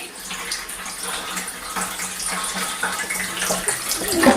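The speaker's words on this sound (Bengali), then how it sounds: "খাবার জল পড়ছে" Drinking water runs steadily from a kitchen tap, a constant splashing hiss at moderate level with no talk over it.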